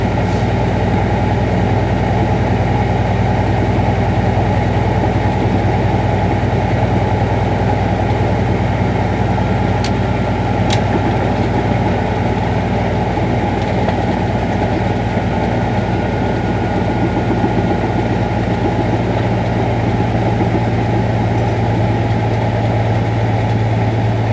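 A heavy truck diesel engine runs steadily at 1200 rpm, a loud, continuous low rumble with no breaks throughout.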